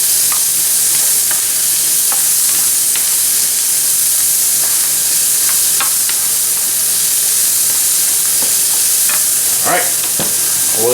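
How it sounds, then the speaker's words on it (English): Bacon sizzles and crackles in hot bacon grease, a loud, steady frying hiss with scattered pops and light stirring noises throughout, no voices. "Alright, we'll let that fry."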